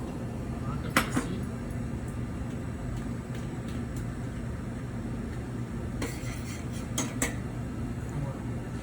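Small metal clinks and taps of a small saucepan and utensils while reheating braised veal cheek, a few sharp hits standing out over a steady low kitchen hum.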